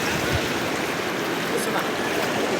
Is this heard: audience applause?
no